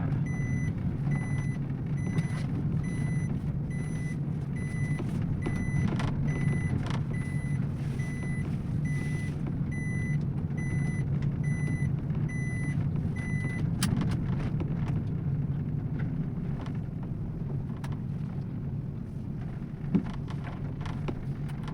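A car driven slowly over a potholed road by a learner gives a steady low rumble throughout, with a faint, evenly repeating electronic beep in the first half.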